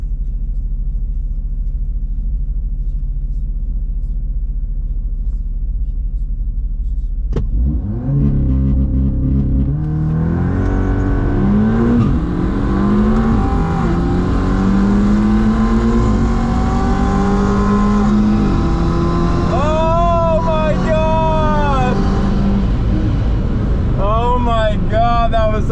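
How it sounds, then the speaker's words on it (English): A 700 wheel-horsepower Cadillac CTS-V launches on a drag run after a low idle, its engine roaring up through repeated gear changes, loud and rising, with voices over it near the end. "Another ctsv run."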